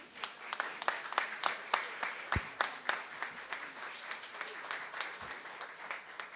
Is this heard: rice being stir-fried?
no